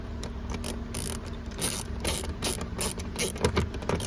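Fasteners being tightened back up with a ratchet during a radio swap in a 2016 Cadillac Escalade: rapid, close clicking of the ratchet pawl in quick bursts, with no talk.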